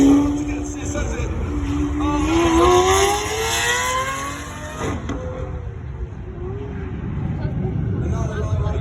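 A Lamborghini Aventador SV, a lightweight carbon-bodied sports car, revs its engine loudly nearby, the pitch sweeping up and then dropping, with outdoor crowd noise and a voice talking in the background.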